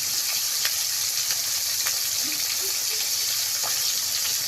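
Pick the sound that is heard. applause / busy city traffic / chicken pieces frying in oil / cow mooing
chicken pieces frying in oil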